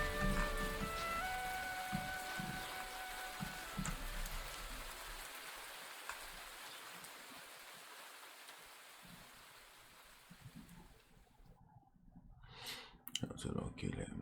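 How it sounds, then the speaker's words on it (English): Rain sounds woven into a song, a steady hiss of falling rain with clicking drops under musical tones, fading midway before a voice speaks near the end. "Yeah, the rain, bro, the rain."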